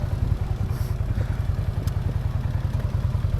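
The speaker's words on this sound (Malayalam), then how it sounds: "Snow bike." A snow bike engine at Manali runs close by in the snow, a fast rhythmic low chugging with a clattering edge that holds steady throughout.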